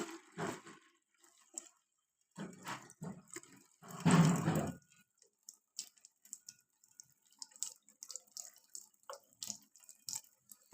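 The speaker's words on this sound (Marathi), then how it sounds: "चला तर मग या नमुन्याला आपण करूया पाणी टाकायला सुरुवात करत आहे" Water poured by hand onto a small soil model, heard as a few short splashing bursts separated by quiet gaps, with a louder pour near the middle and faint trickling and dripping afterward.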